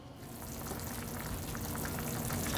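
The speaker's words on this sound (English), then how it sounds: "I want to bring it to a rapid boil." Beef stew bubbles at a rapid boil in a pot, giving a dense, steady roiling and bubbling wash, close and continuous, with no voices.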